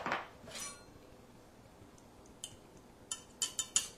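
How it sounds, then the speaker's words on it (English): Baking soda stirred into all-purpose flour in a mixing bowl, heard as soft scrapes followed by a quick series of light clinks and taps of a utensil against the bowl toward the end, close and fairly quiet. "I'm just going to stir in 3/4 of a teaspoon of baking soda."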